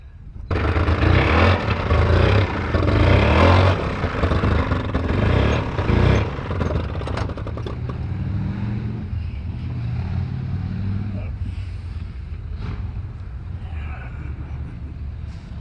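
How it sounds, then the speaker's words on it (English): A motorcycle roars past outdoors during backyard work setting a post in concrete for a water pipe, loud and close at first, then fading into a low rumble as it moves away. "Motorcycle going by."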